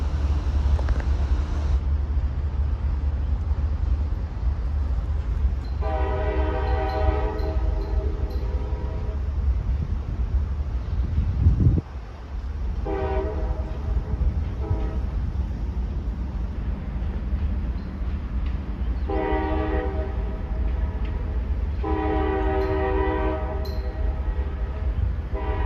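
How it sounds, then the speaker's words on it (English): A CSX GE ES44AH diesel locomotive, number 825, blows its horn for grade crossings, sounding in several long, fairly distant blasts separated by pauses over low rumbling train noise. "CSX 825, a GE ES44AH, sounded the horn for the many crossings along the way."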